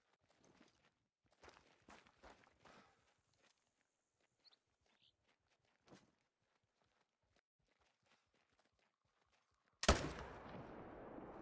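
Quiet footsteps crunching on the ground, then a single loud, close .300 magnum rifle shot in theHunter: Call of the Wild, its crack trailing into a rumbling echo.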